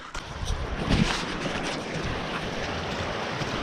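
Water of a creek being crossed on a deer hunting trip in New Zealand, a steady, close rushing hiss of flowing water mixed with wind buffeting, fairly loud and unbroken, with no talking.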